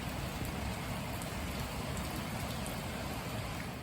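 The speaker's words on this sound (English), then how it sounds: "It's raining so bad." Heavy rain pours down outside at night, a dense, continuous wash of drops and patter that stays steady and fairly distant with no speech over it.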